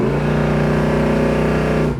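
A 1969 Chevrolet Chevelle with a 396 engine pulls hard under acceleration, its throaty exhaust a loud, steady, close-up rumble with strong low harmonics held from start to finish and dropping off only at the very end.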